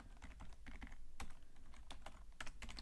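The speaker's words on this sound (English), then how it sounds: "I don't know what I'm typing here" Fingers type on a computer keyboard in quick, uneven bursts of crisp, close key clicks, with short pauses between runs of keystrokes.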